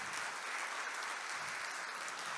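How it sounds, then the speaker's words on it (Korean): At the launch ceremony for the 2024 Global TOP strategic research groups, a large audience applauds in a dense, even roar of clapping that sounds fairly distant and soft and holds steady throughout. "큰 박수 부탁드립니다"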